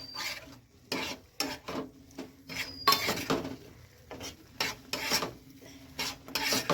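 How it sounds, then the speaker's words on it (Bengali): Semolina is added slowly to a pan and stirred, giving a rhythmic series of dry scraping, rasping strokes with brief pauses between them, close and without speech. "আর সুজিটা দিয়ে আস্তে আস্তে আমি দিতে থাকবো, আর নাড়তে থাকবো, নাহলে দলা বেঁধে যাবে।"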